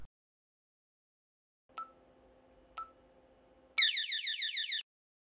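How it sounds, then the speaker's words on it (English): The acoustic alarm of a Protect home alarm system goes off when a sensor is triggered: two short electronic beeps, then a loud, shrill warbling siren burst lasting about a second before cutting off. "In the at-home mode, an acoustic alarm sounds when a sensor is triggered."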